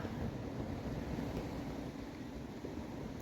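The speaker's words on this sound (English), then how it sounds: "listening to the waves" Steady low rumble of sea waves breaking below high sea cliffs, continuous and distant, blended with wind buffeting the microphone.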